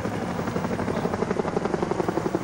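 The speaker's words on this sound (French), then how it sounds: "Les hélicoptères survolent les dernières troupes à pied." Military helicopters fly low over the Champs-Élysées in Paris during a parade, passing above the last marching troops at about 90 knots. A loud, steady rotor thump pulses rapidly and evenly throughout, with no voices.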